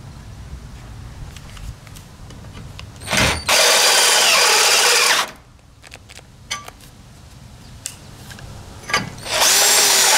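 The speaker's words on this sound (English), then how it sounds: "And that's how you use a step drill." A step drill bit bores a hole through a steel trailer tongue while fitting a Fulton folding tongue kit, two loud sustained grinding bursts of the power drill separated by quieter handling noises and light clicks.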